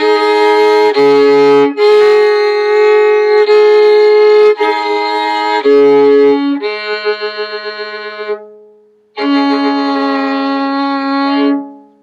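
A solo violin plays a slow melodic phrase of sustained bowed notes, ending with a brief pause and one final held tone.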